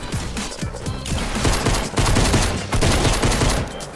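Compact SMG gunfire in Fortnite, rapid bursts of loud automatic shots in quick succession with brief pauses between strings, close and dense throughout.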